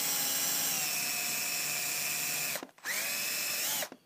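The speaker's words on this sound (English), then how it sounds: "get my drill out here just to open up that hole" An electric drill whines steadily at close range opening up a hole in a Printrbot Simple printer part, pauses briefly, then spins up again before stopping near the end.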